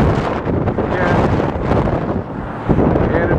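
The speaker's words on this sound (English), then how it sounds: "And it's awfully windy out." Strong wind buffeting a microphone outdoors beside Route 131 near railroad tracks in Maine, loud continuous low rumble and gusty roar throughout, with a voice faintly under it.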